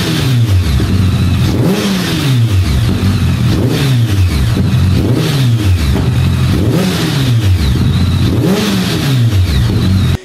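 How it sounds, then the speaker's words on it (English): BMW K1200R naked motorcycle engine revving hard and close, rising and falling in repeated sweeping pulls about every two seconds, loud and continuous throughout with no voices. "Here's a sound clip of the Beamer."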